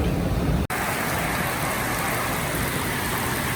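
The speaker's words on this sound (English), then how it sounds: "We got a lot of rain" Steady rain drums on a car while driving on a rainy night, a dense continuous hiss of droplets and road noise that holds at an even level throughout, broken by one brief dropout near the start.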